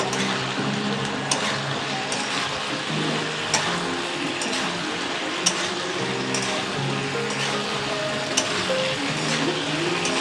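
Soybean chunks fry and get stirred in a pan for chili soybean, a loud continuous sizzle close up with regular scraping clicks of a spatula throughout, no talking.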